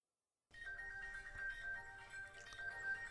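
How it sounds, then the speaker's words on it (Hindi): A phone ringtone for an incoming call rings steadily and clearly at moderate loudness, starting after a brief silence and repeating its tonal melody without pause. "अरे मेरी जूलियट का भी फोन आ गया है"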